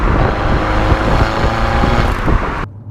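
A Peugeot 308 GTi hatchback's engine revving hard under acceleration, a loud, close, continuous drone that rises and holds before cutting off abruptly near the end.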